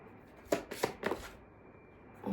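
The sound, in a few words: shuffling tarot cards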